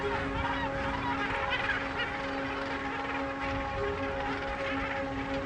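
A dense Cape Gannet colony on a small island off South Africa's west coast fills the air with constant harsh, overlapping honking calls, loud and continuous without pause.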